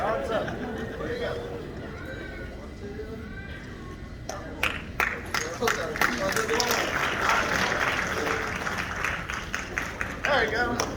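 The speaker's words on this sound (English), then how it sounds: "a big round of applause for Frightmare Christine" An audience at a Texas Frightmare Weekend horror convention panel claps and cheers, a lively patter of hands mixed with crowd chatter and a nearby voice speaking.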